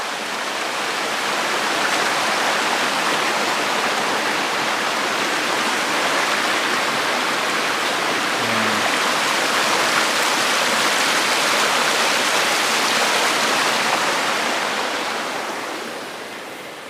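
Steady rushing water of a clean river at a small provincial resort bathing spot, a continuous broadband wash that holds at a constant loud level throughout with no talk.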